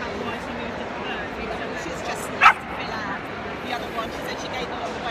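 A Finnish Lapphund puppy at Crufts 2015 gives one short, sharp yip midway, plus a couple of faint softer yaps later, set against a busy indoor show-hall murmur of voices.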